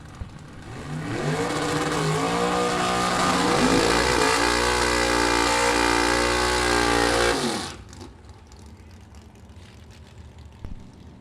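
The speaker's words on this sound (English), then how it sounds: "the motor just sounds mean in Rick Bowman's Grit Willys in the left-hand side" Rick Bowman's Willys drag racing car at a vintage drag race, its engine roaring loud and close for several seconds and rising in pitch through gear changes before cutting off abruptly into quieter track ambience.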